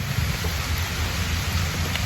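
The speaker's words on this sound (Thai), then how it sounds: "มีฝนกระตอกอยู่นะครับตอนนี้" Steady rain falls, a constant dense patter close around with no voices, moderately loud and unbroken throughout.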